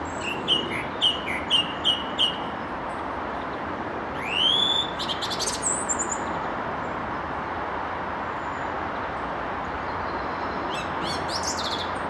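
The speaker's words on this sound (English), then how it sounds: "It's a thrush, I believe." Clear, sweet thrush phrases repeat in short bursts early on, then rising whistles, with steady traffic-like rumble underneath and a few more chirps near the end, on a countryside walk between Farnham and Godalming, England.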